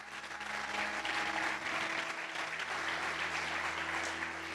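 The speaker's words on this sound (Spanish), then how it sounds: "Si lo vas a aplaudir, aplaude con ganas." Church congregation clapping in a steady wash of applause inside the sanctuary, with a low organ or keyboard drone sustained underneath and no talking.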